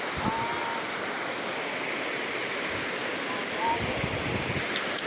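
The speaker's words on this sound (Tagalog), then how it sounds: "malakas yung current ng tubig." A strong river current rushing over large rocks near a resort in Sibugay, Albuera, a steady, close, full roar of churning water with no pause.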